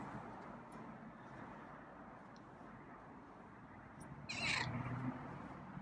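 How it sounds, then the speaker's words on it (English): A single faint, high distress meow from a feral cat rises briefly over a low, steady background hum. "Scruffy, it's a slightly different meow. Sounded more like a distress meow."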